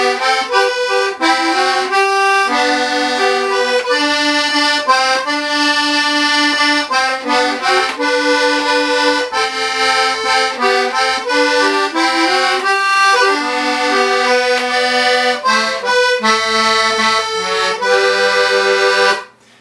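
A Hohner four-stop single-row button accordion in C, played with the middle stops up, gives a mellow, reedy tune of steady, rhythmic notes and chords close by for about twenty seconds before cutting off.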